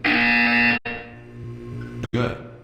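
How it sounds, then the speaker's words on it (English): An electronic buzzer in the video game Portal 2 sounds twice: a loud, steady, harsh tone of almost a second, then a quieter hum, and a second sharp buzz near the end. "You will hear a buzzer."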